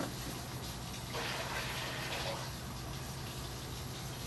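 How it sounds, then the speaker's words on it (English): Water poured from a basin into a commode, a brief gushing splash of about a second and a half, fairly quiet against a steady background hum. "This water is infection controlled bodily fluids, so this water will go inside the commode."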